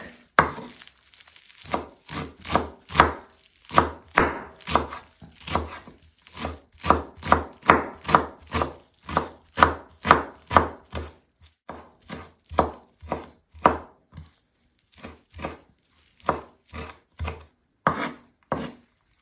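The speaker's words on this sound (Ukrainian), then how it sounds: "Беремо зелень і дрібненько нарізаємо" Fresh parsley, dill and basil being finely chopped with a knife on a board: a fast, steady run of crisp thuds, close and distinct, continuing without pause and without talking.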